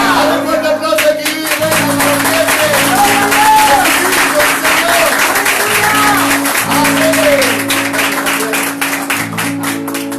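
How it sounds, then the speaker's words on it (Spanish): A church congregation claps loudly over music and voices, with a keyboard or organ sustaining tones and people calling out, all continuous and close throughout. "Un fuerte aplauso aquí."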